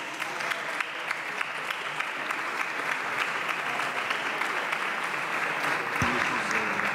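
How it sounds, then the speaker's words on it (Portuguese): Steady applause from the PS benches fills a parliamentary chamber during a solemn anniversary session, dense continuous clapping throughout with a slight shift near the end. "E há aplausos na bancada do PS."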